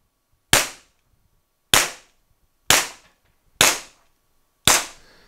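Five sharp shots from a TR50 ring out one by one, each a loud isolated crack with a quick decaying tail, spaced roughly a second apart with silence between.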